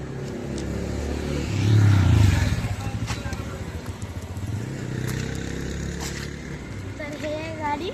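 A car's engine rumbles steadily nearby and swells briefly as it revs, while people talk over the low, continuous drone.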